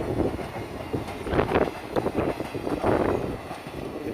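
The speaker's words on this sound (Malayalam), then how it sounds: "പാസഞ്ചർ ട്രെയിനാണ് ഈ പോകുന്നത്" A passenger train rolls past in a village in Kollam district, Kerala, its wheels giving an uneven clatter of surges that rise and fall over a steady rumble, fairly close and with no voices.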